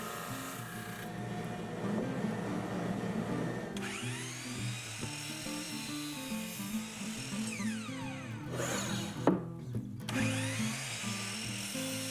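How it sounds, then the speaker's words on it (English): A drum sander grinds Sapele wood table legs down to an exact 1 3/4 inch square, removing blade marks. A steady, close motor drone with whining tones that rise and fall runs throughout, with no talk. "Now I'll run the legs through the drum sander, removing any blade marks and sanding the legs down to an exact 1 3/4 square."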